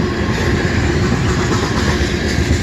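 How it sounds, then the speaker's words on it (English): A long CSX freight train rolls past close by in Fostoria, Ohio, a loud, continuous rumble with dense rattling of wheels and cars and no pauses. "Long train."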